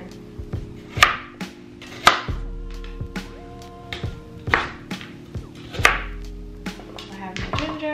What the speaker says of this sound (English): I'll probably cut this into a couple more pieces